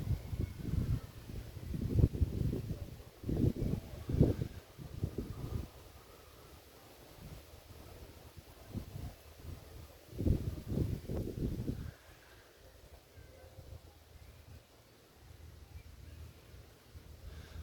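Gusty outdoor wind buffets the microphone in irregular low rumbling bursts while someone lights a fire by friction with a bow drill, and calmer gaps fall between the heavier gusts.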